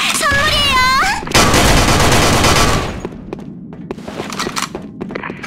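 A grenade is thrown in the Sudden Attack shooter game, followed by a loud, dense blast with rumbling debris that tails off into scattered clatter, preceded by a raised, pitch-sliding voice.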